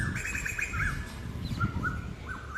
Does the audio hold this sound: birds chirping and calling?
yes